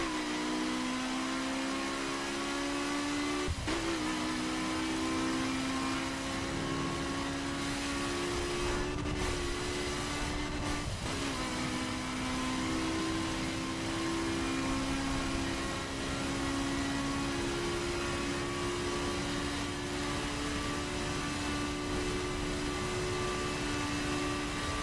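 BMW M4 in The Crew video game accelerating at full throttle from a stop on a freeway, a steady loud engine drone rising in pitch with brief dips at gear shifts, continuous and close with no talking.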